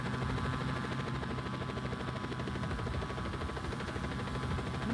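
Helicopter flying in the video game Just Cause 4, a loud, steady rotor thrum and engine whine close by, with no talking.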